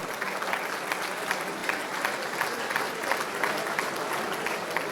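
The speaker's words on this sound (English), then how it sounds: "Please give them a very big round of applause for Eva." Sustained audience applause at the closing ceremony of the World Puzzle Championship in Eger, Hungary: steady, dense clapping throughout, fairly loud and continuous, with no voices over it.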